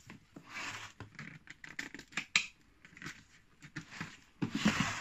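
Unpacking a Bosch PSB 1800 LI-2 cordless combi drill set: close, irregular rustling of packaging and plastic, soft scratches and small knocks, with a few sharper clicks scattered through, no talk.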